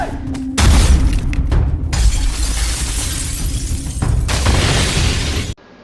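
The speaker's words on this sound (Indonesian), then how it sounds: "Akhirnya, Yongnam pun mencoba untuk memecahkan kaca tersebut." Window glass smashed in the Korean disaster film EXIT: loud, close crashing bursts of breaking glass, with a second heavy shattering impact partway through before it cuts off.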